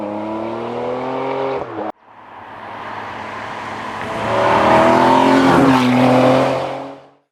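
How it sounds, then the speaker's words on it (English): A Ferrari sports car with a 6-litre V12 engine and a modified race-derived exhaust idles with a rich harmonic hum, cuts off sharply, then revs and accelerates into a loud, rising howl before fading. "Its powerful 6-litre V12 engine is combined not only with the modified exhaust from the 599XX race car"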